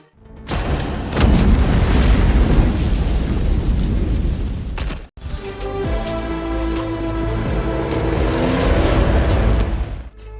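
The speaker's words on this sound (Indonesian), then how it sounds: "Lalu Amar menabrak truk yang dinaiki Safar hingga terbalik." A truck is rammed and flipped over in an action film scene: a loud, booming crash with a heavy explosive burst, a sharp cut midway, then rumbling debris and resonant metallic ringing, with no talking.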